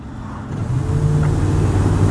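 A car engine revs and builds as the vehicle accelerates from inside the cabin, a low, rising hum that grows louder and steadier, heard alone without talk.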